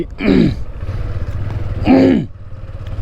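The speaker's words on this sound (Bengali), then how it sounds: "কলায় কাশি বেঁধে যাচ্ছে কেন" A person in a quiet outdoor spot on a university campus clears a cough stuck in the throat, two loud, rough, groaning bursts about a second and a half apart over a low background rumble.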